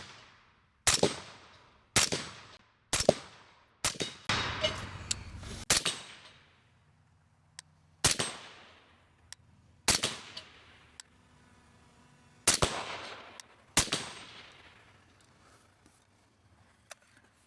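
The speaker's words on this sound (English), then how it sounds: "get another 5 rounds loaded up for Logan real quick." Rifle shots at an outdoor range ring out about a dozen times with irregular spacing, each a sharp crack followed by a ringing decay, with a few quieter metallic clicks between.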